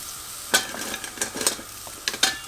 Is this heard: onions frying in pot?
yes